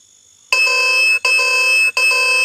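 A loud electronic turn-signal warning chime rings three times in steady succession, each long bright burst separated by a brief gap, with no voices.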